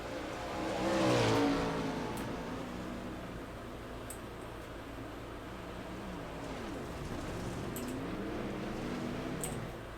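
410 sprint race cars roar down the front straightaway at Williams Grove Speedway, a loud engine pass swelling early and then a steady, distant drone of the field circling with no voices.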